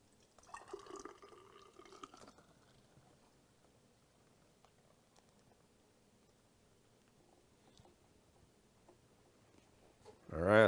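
Blended juice pours from a Vitamix blender carafe in a short, soft liquid stream near the start, followed by quiet, faint drips and a louder bump at the very end.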